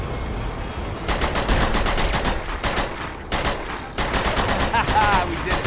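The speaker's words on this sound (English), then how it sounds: "Shoot the ceiling." Gunfire blasts at a ceiling in the video game Uncharted 2 Remastered, loud rapid bursts of shots in several separate volleys over a few seconds, with faint sound effects between them.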